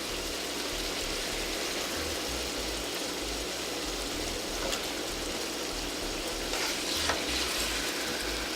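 Salmon fillets and tomatoes fry in a pan, giving a steady, dense sizzle that runs unbroken throughout, with a few faint clinks of stirring near the end and no talk.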